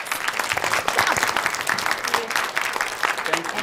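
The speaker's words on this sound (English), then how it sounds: "Let's give them a big round of applause." Dense, steady applause from an audience fills the whole stretch, loud and continuous with a few cheers mixed in.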